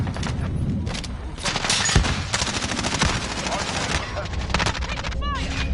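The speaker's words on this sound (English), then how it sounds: "Taking fire." Rapid, heavy video-game gunfire under fire during a hard point match, continuous overlapping shots close and loud throughout, with dense crackling bursts and a brief electronic chirp near the end.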